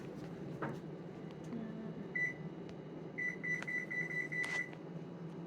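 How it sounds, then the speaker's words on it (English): An oven timer is set while baking pretzel bites: a single short electronic beep, then a quick run of bright beeps as buttons are pressed, heard over a steady low kitchen hum with no talking. "so I'm gonna put my timer on."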